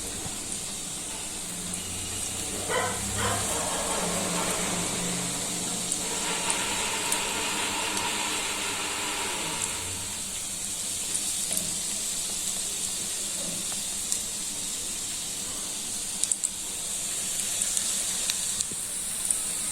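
Onion bajji fritters frying in hot oil, a quiet, steady sizzle and hiss with a denser crackling burst partway through, then settling back to a soft continuous bubbling.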